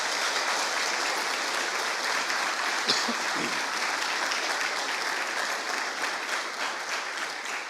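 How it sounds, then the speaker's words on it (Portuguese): A church congregation applauds steadily during a Sunday celebration service, a dense, even roar of many hands clapping that holds for several seconds at moderate distance without a break. "Você pode aplaudir Jesus bem forte?"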